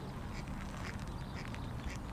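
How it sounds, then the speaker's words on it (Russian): Ducks quack intermittently at a pond in a new park, a few scattered nasal calls over continuous low background noise outdoors. "Утки крякают."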